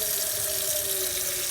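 A water tap runs steadily into a pot being filled for boiling noodles, a constant hissing splash with a faint whistling tone, close and uninterrupted for the whole short stretch.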